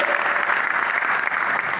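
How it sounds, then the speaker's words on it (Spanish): Audience applause at a book presentation during a history and memory discussion event, a dense, steady wash of clapping that holds loud and even throughout, with no pauses. "para quienes pido un fuerte aplauso"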